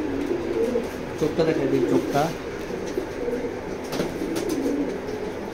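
Chocolate grizzle pigeons coo in soft, repeated throaty burbles against a low background hum, while someone talks over them.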